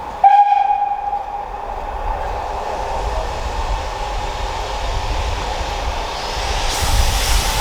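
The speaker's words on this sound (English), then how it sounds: "Heading back to Sheringham for some lunch, we're being hauled by the Class 31" A heritage train hauled by a British Rail Class 31 diesel locomotive on the North Norfolk Railway, heading to Sheringham; a short horn blast opens over a steady, rumbling ride with continuous wheel and carriage noise.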